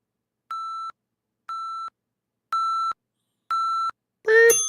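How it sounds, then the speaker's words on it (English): A kitchen-style timer sounds four evenly spaced electronic beeps, steady and clear with silence between each, followed by a brief, louder burst of a different sound at the end. "Beep, beep, beep."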